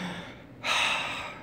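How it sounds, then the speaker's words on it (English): A single deep, breathy inhale, close and fairly loud, rising suddenly and then trailing off. "We're breathing down here."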